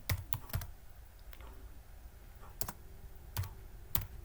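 Computer keyboard typing heard up close but quietly, short clusters of sharp key clicks separated by pauses, with no voices.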